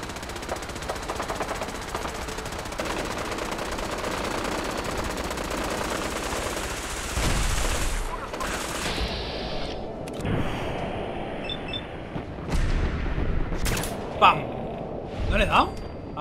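Machine gun fire during combat in the game Fallout 4, a continuous rattling stream for several seconds, then scattered impacts and thuds, with game voices talking over it.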